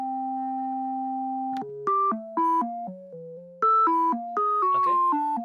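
Pure electronic sine tones play alone, a long steady held tone followed by a quick sequence of stepping pitches, like a simple synthesized melody.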